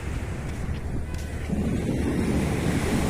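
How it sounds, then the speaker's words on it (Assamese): Sea waves washing in at a sandy beach with an island offshore, a continuous loud surf roar that swells in the second half, with wind buffeting the microphone. "পাছফালে গোটেই সাগৰ"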